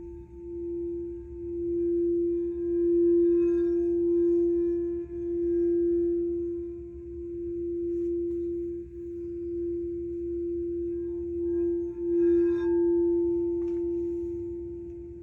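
Heart chakra meditation tone, a steady low hum held continuously with gentle swells in loudness and faint higher shimmers drifting above, calm and close, no voices.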